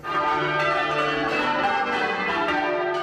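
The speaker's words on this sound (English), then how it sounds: "try and let the bell go up a little bit further" A large swinging church bell rings with a rich, sustained metallic tone, its strikes overlapping into a continuous, resonant peal close by.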